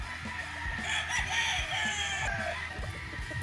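A Kelso gamefowl rooster crows on a game farm, two or three drawn-out calls fairly close, with clucks and farm background noise between them.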